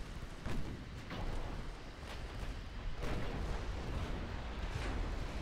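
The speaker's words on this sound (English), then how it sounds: "Ricochets." Battleship shells ricocheting off armor in Ultimate Admiral Dreadnoughts, a series of distant, muffled bangs and thuds spaced irregularly over a low rumbling naval battle background.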